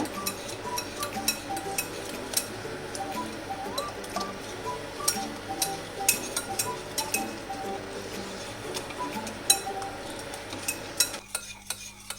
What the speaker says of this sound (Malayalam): നമുക്ക് കുറേശ്ശെ ഒഴിച്ചു കൊടുത്ത് ഇളക്കാം, അല്ലെങ്കിൽ അത് വെന്ത് പോകും മുട്ട